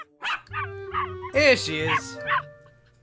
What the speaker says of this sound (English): That's a hound. Huh, not even a hound. Barely a pup.